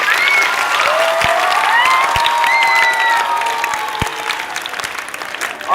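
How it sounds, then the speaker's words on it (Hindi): Loud, sustained clapping from a crowd of students for the ninth class at a Mother's Day school event, dense and close, with a few shouts and whistles riding over the applause before it thins near the end. "नाइन्थ क्लास के जोरदार क्लैपिंग"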